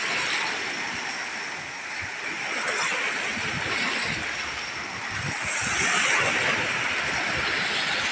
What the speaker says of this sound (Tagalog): Masarap talaga pakinggan at pagmasdan ng hampas ng alon.